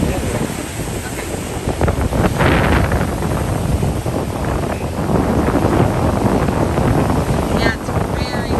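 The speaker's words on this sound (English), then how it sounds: "it's very windy today," Strong wind at Indiana Dunes National Park buffets and roars across the microphone in continuous gusts, with a faint rushing like surf in the background.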